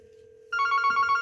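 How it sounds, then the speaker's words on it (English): A Yealink T54W desk phone rings during a call transfer, its electronic ring tone starting abruptly after a low steady hum and repeating in quick, bright pulses close up with no talk. "And now this call is going to be ringing."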